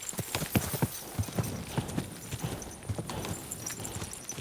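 Steady clip-clop of horse hooves in the video game Kingdom Come: Deliverance II, a quick regular rhythm of hollow knocks over soft background ambience, fairly close.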